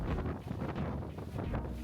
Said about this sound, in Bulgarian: Вятър е отвратителен.